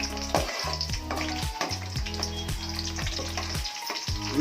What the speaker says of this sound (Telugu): ఇదిగోండి కొద్దిగా నూనె వేడెక్కింది పచ్చిమిరపకాయలు వేసుకోవాలి